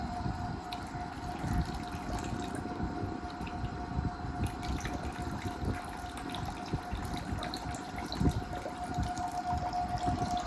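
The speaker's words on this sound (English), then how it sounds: "Now priming is in progress." Steady mechanical hum of a hysteroscopy fluid management pump priming, with water running continuously through tubing, a constant whirring drone with no pauses.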